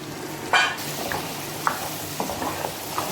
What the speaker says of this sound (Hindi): ये इनको मैं डाल के अच्छे तरीके से भून लूँगी